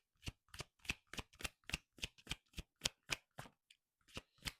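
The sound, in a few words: shuffling oracle cards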